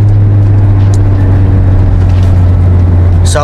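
A car idles through a Greddy chambered muffler, giving a steady, loud, deep exhaust drone that holds level throughout. A brief chirp cuts through near the end.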